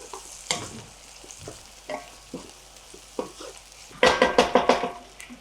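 Spices fry and get stirred in a pan for Himachal-style chicken biryani, with loud sizzling and repeated scraping strokes of a spoon, quickening into a burst of rapid stirring near the end.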